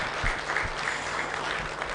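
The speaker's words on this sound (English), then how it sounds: "I think he deserves another clap because he did really well" An audience at an end-of-project conference in Kenya gives a brief round of applause, steady dense clapping throughout.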